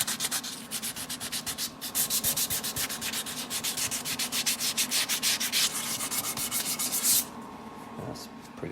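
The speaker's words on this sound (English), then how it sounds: "Get a little sandpaper." Sandpaper rubs by hand across the wooden body of a P-Bass in quick, even back-and-forth strokes, a close, raspy scratching that stops abruptly near the end.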